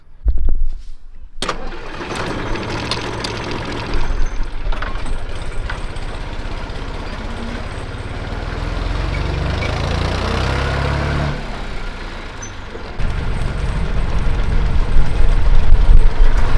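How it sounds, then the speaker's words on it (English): A vehicle engine starts up and runs steadily while towing a trailer of empty pear bins into an orchard field during harvest, a loud close engine drone that swells toward the end, with no talking. "Well, another trailer of empty bins is going into the field, so let's get it there."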